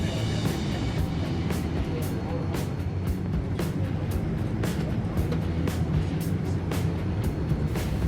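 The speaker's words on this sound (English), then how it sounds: "we're taxiing out to the runway, getting ready for takeoff." Steady low engine rumble inside an aircraft cabin as it rolls along the ground, with periodic faint clicks and thumps over the drone.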